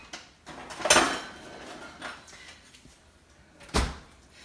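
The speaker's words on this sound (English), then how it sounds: "let me get my bench scraper here" A bench scraper sliding and knocking against a cutting board while moving cut food for a shrimp boil, two sharp scraping clacks with a softer shuffle between, close and otherwise quiet.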